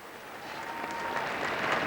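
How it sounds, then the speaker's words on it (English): A crowd gathered outdoors applauds the Queen as she leaves, a broad, steady wash of clapping that swells slightly toward the end, heard from a short distance. "she was warmly applauded by the crowds that had gathered to share this moment and their sympathy"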